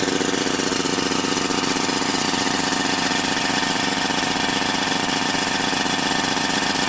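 A small water pump motor runs steadily with a constant droning hum and faint mechanical rattle, close by and unbroken throughout.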